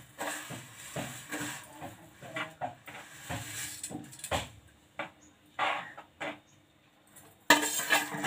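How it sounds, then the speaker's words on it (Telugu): Dry vermicelli (semiya) going into a pot of boiling water on a low flame: scattered light clinks and taps of utensils against the pot, soft stirring noises, then a louder rushing burst near the end. "సిమ్లో పెట్టేసి ఒకసారి ఈ సేమియాని దీంట్లో వేసేద్దామండి"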